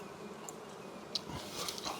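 A drone honey bee buzzes close by, a thin, steady insect drone with a few brief louder flickers as it moves, alone and fairly soft.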